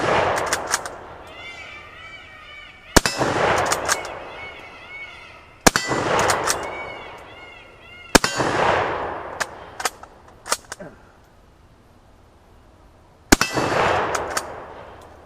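A Karabiner 98 rifle firing 192 grain full metal jacket steel-core rounds downrange outdoors, five loud sharp shots spaced a few seconds apart, each with a ringing tail, interspersed with metallic bolt clacks and handling noise.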